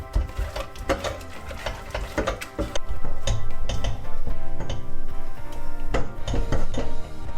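Eggs with spring onions being stirred over low heat, a steady run of utensil scraping and light clinks against the pan, growing louder and busier midway through, with no talking.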